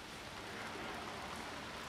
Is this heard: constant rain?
yes